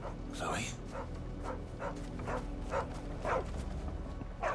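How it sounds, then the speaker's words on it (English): A dog in the Final Fantasy XVI video game gives a series of short barks and whimpers, about eight evenly spaced yelps, close and clear over a low ambient game background. "Maybe it's a dog."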